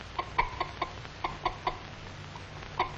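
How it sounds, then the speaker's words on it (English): An old hen on a vintage farm, near a cellar where a mother cat keeps her two-week-old kittens, gives a string of short, sharp clucks in an irregular rhythm, fairly close, with a pause before a last cluck. "This fussy old hen doesn't like to have cats and kittens around."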